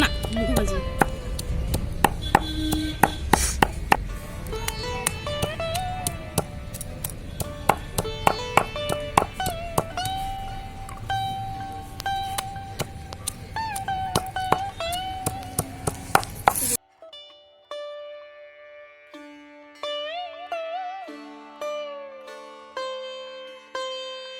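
Washed jujube (kul) fruits being mashed and pounded, a steady run of sharp, close knocking thuds over a background of soft music, which continues alone after the pounding stops.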